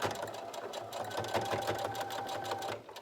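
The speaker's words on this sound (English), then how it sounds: "just stick it right under my machine like that. And I'm gonna back tack." A sewing machine back tacks over a ribbon for a surgical mask, a steady close mechanical whir with a rapid needle patter running throughout.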